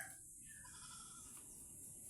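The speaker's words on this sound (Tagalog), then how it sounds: "Sa labas ay mga batang kambing." Young goats bleat outdoors on a farm amid a constant high-pitched background drone, the calls faint and wavering over about two seconds.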